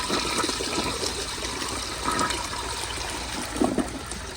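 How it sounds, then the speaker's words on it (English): A 2001 Crane Plumbing Rexmont elongated toilet flushes nearby, a steady rushing gush of water with swirling and trickling that swells briefly near the end as the bowl drains. "But here's another flush."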